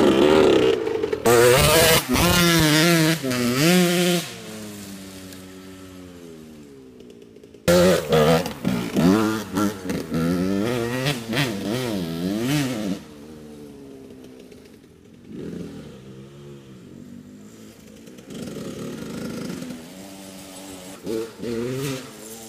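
A Yamaha YZ or Honda CR dirt bike engine revs up and down in loud, rising and falling bursts, pitch sweeping repeatedly, with a sharp clatter early on and quieter idling near the end.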